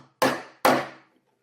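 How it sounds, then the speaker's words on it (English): Two sharp metallic taps of a hammer on a chisel, driving a brittle pin out of a Marlin recoil buffer, each strike ringing briefly before fading, close and alone. "we're going to take our chisel and a hammer and tap that sucker out and split it like it is"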